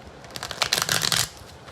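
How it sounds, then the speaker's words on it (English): Tarot cards are riffled in a quick shuffle, a burst of rapid crisp flutters building and then ending after about a second, close up with no talking. "So what I'm going to do is shuffle for you."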